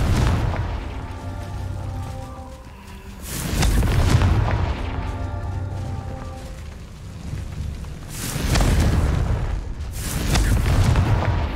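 Confringo explosive spell blasts in the Hogwarts Legacy video game, a series of deep rolling booms swelling and fading several times over a hissing, rain-like background, loud, with no talk.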